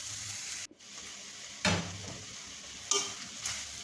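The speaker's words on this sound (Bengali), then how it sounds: "টুনা মাছ দিয়ে ভালো করে নেড়ে চেড়ে মশলার সাথে মিশিয়ে নিচ্ছি।" Tuna mixed with spices is stirred in a frying pan under a low, steady sizzle, with a few distinct scraping strokes of the utensil against the pan.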